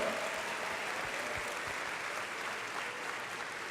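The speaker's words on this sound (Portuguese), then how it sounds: "Uma salva de palmas ao Senhor" A church congregation claps steadily in praise during a Sunday night service. The dense, even applause stays at a constant level across the whole span, with no voice above it.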